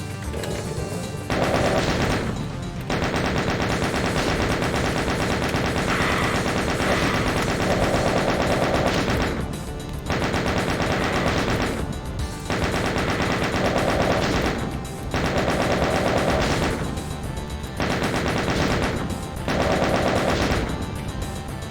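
Sustained bursts of rapid automatic gunfire from the video game RAMP 2023 rattle loudly and densely, broken by brief pauses between volleys across the whole stretch.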